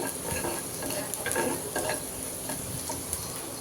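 Chopped garlic, onion and a chopped dried red chili hit hot oil as a tempering, giving a steady loud sizzle and crackle with occasional stirring scrapes, no voices.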